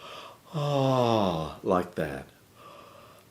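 A voice-training yawn: a long, relaxed voiced yawn sliding downward in pitch, followed by two short breathy rising-falling vocal sweeps, with a few spoken words at the end.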